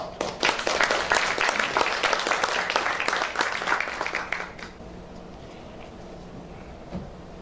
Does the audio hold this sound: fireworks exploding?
no